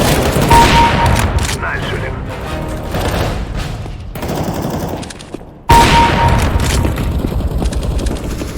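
Rapid automatic gunfire fills a Counter-Strike: Global Offensive team deathmatch round on the Cobblestone map, with dense bursts and booms running almost continuously and a sharp louder volley near the end. An announcer's voice cuts in briefly.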